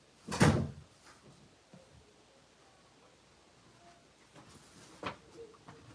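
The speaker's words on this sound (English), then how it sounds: "Hold on, let me close this door." A room door in a home closes with one loud, close slam near the start, followed by quieter rustling and a softer knock later.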